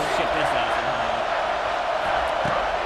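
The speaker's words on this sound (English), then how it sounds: "this crowd is bringing down the house" A loud stadium crowd roars continuously in the College Football 26 video game during an Auburn versus Texas A&M matchup, with a commentator's voice running over the dense, steady noise.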